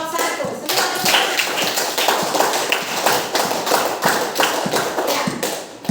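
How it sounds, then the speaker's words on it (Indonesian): Group applause for the first team in a classroom, rapid dense hand claps with sharp individual slaps standing out, steady and fairly loud throughout. "Semua tepuk tangan."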